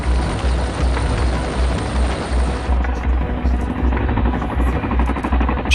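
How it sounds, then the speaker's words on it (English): A heavy Boeing Chinook helicopter drones steadily with a deep rotor throb and broad roar, loud and continuous throughout. "the boat, and the helicopter can be flying away to safety at nearly 190 miles per hour"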